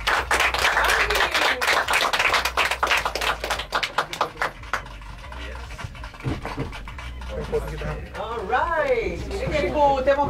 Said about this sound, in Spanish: Um aplauso para você mesmo